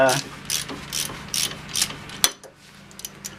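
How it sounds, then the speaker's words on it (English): A hand ratchet clicks in several quick bursts while tightening bolts on a bolt-on wheel bearing hub, the pawl ticking loudly and close, then stopping with a sharp final click and a few faint ticks. "when you're tightening these down, I recommend you go a little bit on each side and keep going around in a circle."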